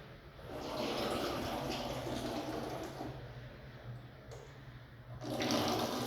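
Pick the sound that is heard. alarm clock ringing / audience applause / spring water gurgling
spring water gurgling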